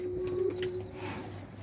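Domestic pigeon cooing at a rooftop loft kept by a pigeon fancier, a low steady warbling coo running throughout at moderate level, close by, with faint ambient noise around it.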